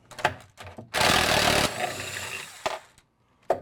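A screw is backed out of a center door stile with a drill fitted with a 90-degree holder attachment: one loud, steady motor burst of under a second, framed by a few sharp clicks and handling knocks.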